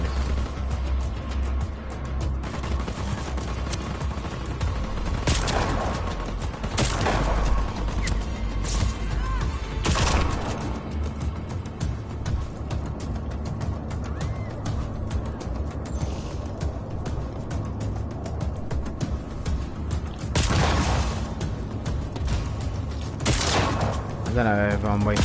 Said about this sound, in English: I don't know if I'm wasting my bullets here blowing all this up.